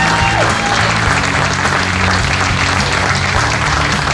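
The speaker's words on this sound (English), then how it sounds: "Let's give him a round of applause." Applause from a crowd at a motorcycle challenge event, a steady, loud wash of clapping that holds throughout with light crowd noise.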